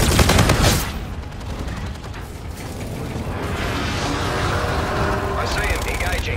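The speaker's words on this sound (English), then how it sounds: "Roger, inbound for gun run." Strafing gunfire from an aircraft gun run in a Call of Duty-style video game, a dense continuous burst opening loud and close, then settling into a sustained roar of rattling fire and mechanical clatter that lasts to the end.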